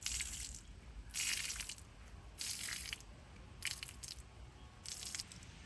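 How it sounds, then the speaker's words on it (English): Wet Bernedoodle dog fur pressed straight down by hand to squeeze out water, five rhythmic squishing crunches with quiet pauses between, close and faint. "I'm just going to kind of get the excess water out through here just by pushing straight down."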